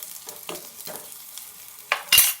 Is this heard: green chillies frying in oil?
yes